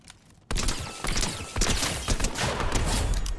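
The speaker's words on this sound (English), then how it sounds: "I'm sorry, is that a turret?" A turret in the Fortnite video game fires explosive shells in loud, dense, rapid bursts that begin abruptly after a short quiet lead-in and continue without pause, close and heavy.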